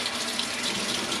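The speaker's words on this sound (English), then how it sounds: "Pouring in the developer." Film developer poured into a developing tank gives a steady, close liquid rush throughout, a continuous splashing flow with no talk over it.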